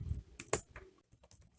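Quiet, close keystrokes on a computer keyboard come as a few scattered clicks and taps with short gaps between them, alone with no talking.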